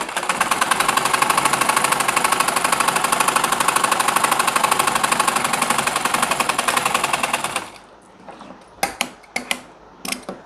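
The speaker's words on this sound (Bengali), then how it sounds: "এখন এই মাথায় আমরা সেলাই করে দিচ্ছি।" A sewing machine stitches a pajama pocket in a fast, steady mechanical rattle for about seven seconds, then stops, leaving a few sharp clicks and handling noises close by.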